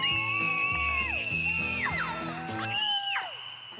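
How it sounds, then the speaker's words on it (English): Several people scream and yell together in loud, overlapping cries that rise and fall in pitch, close by and sustained for a few seconds during a sibling rivalry contest. "I hope those screams haunt you at night"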